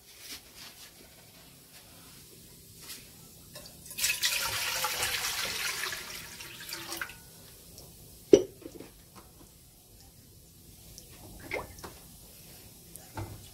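Water pours in a steady stream into a pot for boiling yam for a few seconds, then stops, followed by a sharp clank and scattered quiet kitchen knocks.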